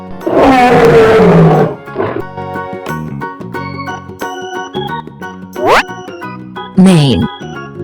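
A loud, close lion roar opens and then fades into a backdrop of tinkling, jingly music, with a few short vocal bursts and grunts later on.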